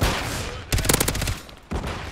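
Brief loud gunfire from Modern Warfare 3 breaks out as a rapid rattling burst over a dense layer of background battle noise. It drops back after about half a second.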